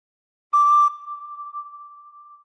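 A single recorder note played with the thumb hole open and the second finger on the second hole, a clear steady tone with a breathy onset, sustained softer for about two seconds after the initial blow.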